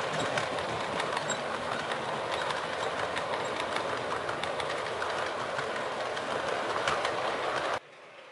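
A model railway train runs along a home layout, giving a steady, close, continuous rumble and rail clatter that cuts off abruptly near the end.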